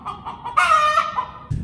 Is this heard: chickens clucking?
yes